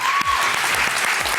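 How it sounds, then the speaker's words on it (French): A studio audience at a French talent show claps loudly in a dense burst of applause that holds steady through the short moment, with a faint tone heard briefly near the start. "Et on va encore une fois l'applaudir très fort."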